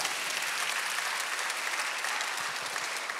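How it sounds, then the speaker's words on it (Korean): A church congregation claps together during a Sunday worship service. The applause is steady and sustained at a fairly even level, with a brief sharp sound at the very end. "박수로 하세요."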